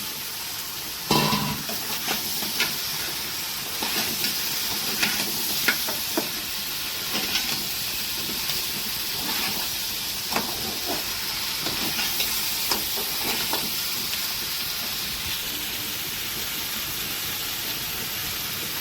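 Continuous frying sizzle from a pan of spicy crab curry after potatoes go in, with a steady broadband hiss and scattered sharper crackles and stirring clatters throughout, close and moderately loud with no talk.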